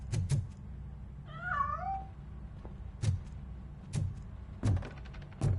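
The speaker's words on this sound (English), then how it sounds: "That cat must be hiding inside." A cat in the RoboCop: Rogue City video game gives one clear wavering meow, surrounded by several sharp thumps or knocks, with no talking.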